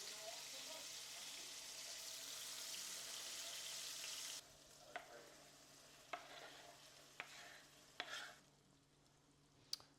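Tomatoes go into a hot pan during home dinner cooking, a soft steady sizzle that quiets after a few seconds, followed by several sharp clinks and scrapes of stirring, faint and close.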